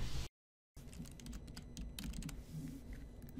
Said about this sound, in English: In the Browse box, type in the name of the publication you want.